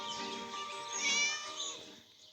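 A cat gives one long, drawn-out meow that rises and then trails off, close and clear with no other sound.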